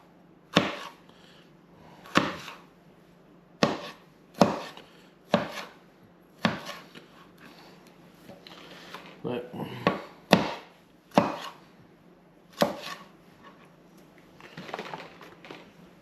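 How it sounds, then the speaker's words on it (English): Tomatoes being cut with a knife for a Greek salad, a series of sharp separate chops against a board at an uneven pace, fairly close. "Now tomatoes, again, just cut them up."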